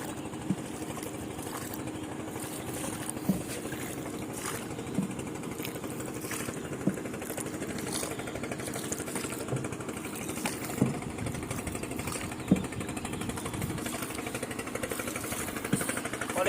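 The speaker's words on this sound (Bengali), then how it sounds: "অনেকদিন পরে নৌকা চালাচ্ছি" A small boat's engine runs steadily while crossing a fast-flowing river, a continuous mid-pitched mechanical drone with a slight rattle, close and unbroken throughout.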